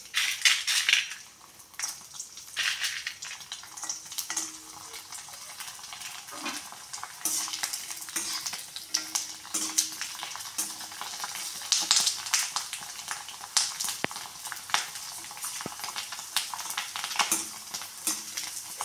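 Rice sandige fryums fry in hot oil with a constant bright sizzle, broken by repeated metal ladle clinks and scrapes against the pan as they are stirred, close and fairly loud throughout.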